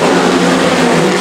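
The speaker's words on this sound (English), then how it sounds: "Very demanding lead in this heat race for speed cars" Speedcars roar around a track in a heat race, a loud dense blend of engines revving hard and continuously, up close with no breaks.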